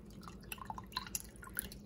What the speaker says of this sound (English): you can see down here that the water is kind of escaping